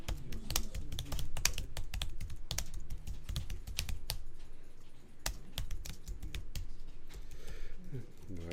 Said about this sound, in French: Donc vous revenez sur ce paragraphe vide et vous tapez le titre.